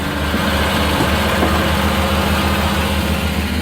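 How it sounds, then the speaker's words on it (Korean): A 35-horsepower engine on a high-pressure washer pump idling, a steady, loud, close mechanical drone with a constant low hum and no breaks. "일단 펌프 사양이 엔진은 지금 현재 35마력이에요"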